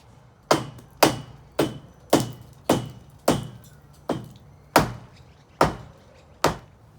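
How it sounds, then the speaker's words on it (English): A hammer strikes a concrete deck pillar in about nine sharp, evenly spaced blows, close and loud, each ringing off quickly. "We're just going to chip away at it with a hammer and push it over."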